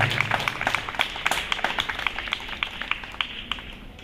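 Children at an award ceremony for a virtual competition clap loudly for their parents, a steady run of sharp, fairly close hand claps with a loose rhythm over light background noise.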